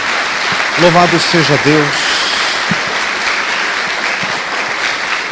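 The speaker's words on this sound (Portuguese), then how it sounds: "Uma salva de palmas a Jesus." A church congregation claps in sustained applause during worship, a steady wash of handclaps lasting throughout while a voice briefly speaks praise over it near the start.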